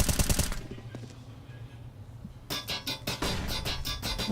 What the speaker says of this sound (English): Warning shots for Demka.